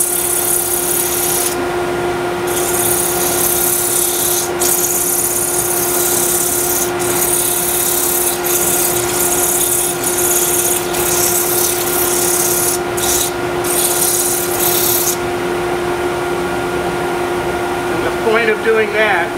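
Steady loud whir of a power sander on wood with a dust collector droning underneath, broken by brief sharp scraping accents, no speech.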